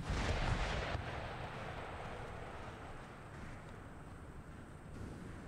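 Artillery bombardment in Empire: Total War, with cannon fire heard as distant, muffled booms blending into a continuous low rumble that is fairly quiet throughout.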